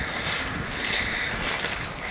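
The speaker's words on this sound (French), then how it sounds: "il y a un petit peu de vent" A light, steady wind is picked up outdoors by a Galaxy S25 Ultra phone, a faint, even hiss of air that holds at a constant low level with no talking.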